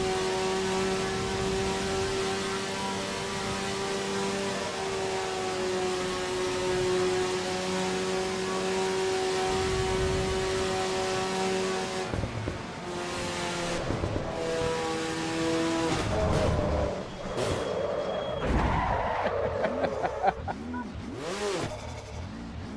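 Dallara race car engine in Assetto Corsa Evo, a steady high harmonic drone holding pitch for several seconds, then rising and falling through gear changes and revs with sharp shifts toward the end, loud and continuous with no talk.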